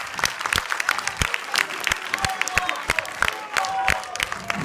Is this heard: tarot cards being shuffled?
no